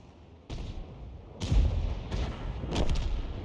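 Heavy artillery shells fired from the Conqueror Gun Carriage in a tank battle game, with several deep booming blasts and rolling echoes, one after another and loud, alone with no talk.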